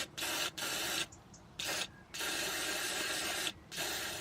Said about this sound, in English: we need to spray it with a penetrant oil